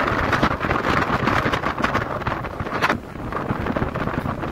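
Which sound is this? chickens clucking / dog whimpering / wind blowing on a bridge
wind blowing on a bridge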